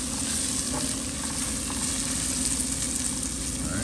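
Rice toasting in hot oil in a pan for mushroom risotto, giving a steady, even sizzle that holds continuously at close range with no talking.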